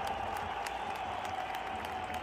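Stadium crowd applauding at a football match in the stadium that was long goalkeeper Chuy Corona's home: steady dense clapping with some cheering, continuous and fairly distant, no talk.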